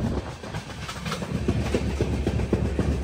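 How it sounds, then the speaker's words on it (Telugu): The Devagiri Express passenger train runs on the rails near Bolarum, its wheels beating out a steady, rhythmic clickety-clack of close, loud rumbling thumps heard from on board, with no talking. "బొల్లారం దగ్గరకు అయితే వచ్చింది మన ట్రైన్"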